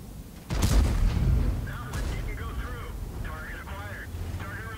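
A single heavy tank cannon blast in World of Tanks, with the T110E5 on Sacred Valley, gives a deep booming report that rolls off under game sounds while someone comments over it.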